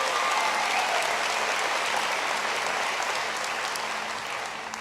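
Sustained, dense applause from a large audience fills a health reform town hall in North Carolina, holding steady and loud before easing slightly toward the end.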